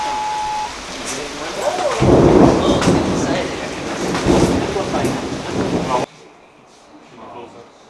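Thunder rumbling with rain during a lightning storm, a loud rolling low roar swelling and fading over several seconds before cutting off sharply, with voices talking underneath.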